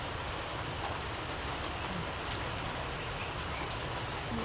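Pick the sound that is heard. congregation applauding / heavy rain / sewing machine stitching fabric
heavy rain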